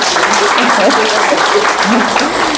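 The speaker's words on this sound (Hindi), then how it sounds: "इनके लिए तालियां बजाओ" Audience at a Brahma Kumaris gathering in Junnar, Pune, clapping loudly and continuously for the organisers, a dense close burst of many hands with a voice faintly mixed in.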